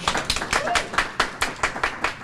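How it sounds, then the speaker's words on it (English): Audience applause at an outdoor downtown mural unveiling in Harris County, Houston: a steady run of hand claps at mid loudness, slightly uneven in rhythm, with no voices over it. "That deserves a round of applause."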